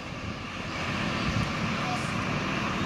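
A Hino RK bus engine rumbles steadily and fairly loud as it runs past on a road, a broad continuous drone with a voice talking faintly underneath.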